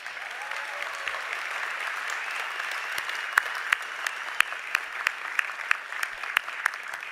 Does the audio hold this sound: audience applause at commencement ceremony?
yes